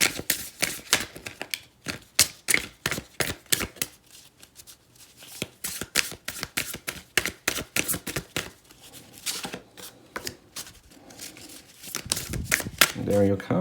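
Tarot cards shuffled by hand, brisk riffling and slapping in quick irregular bursts, close and crisp, ending with a flurry as cards fly out; a voice talks over it.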